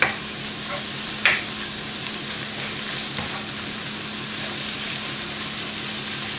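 Spinach and spring onion fry in a pan with a steady, dense sizzle, punctuated by a few sharper scrapes of stirring, close and continuous with no talk.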